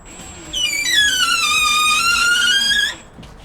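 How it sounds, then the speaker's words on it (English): A rising and falling mechanical whine of a drill driving a screw while installing a Reolink doorbell runs for a couple of seconds close up, then winds down and stops. "I'm going to put one screw in here like so."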